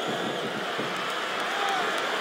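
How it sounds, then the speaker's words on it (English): Crowd in WWE SmackDown vs RAW 2007 wrestling video game chanting: a dense, continuous arena roar with rhythmic swells, loud and sustained throughout. "Wow, listen to that chant, Taz."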